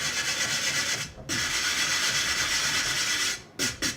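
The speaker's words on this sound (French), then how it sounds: "un bon gros coup de brosse métallique sur toute la plaque" A wire brush scrubs hard across a rusty metal plate from a CPC464 computer, loud continuous rasping strokes with brief pauses between passes, no talking.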